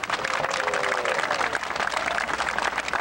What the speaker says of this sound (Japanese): どうぞ大きな拍手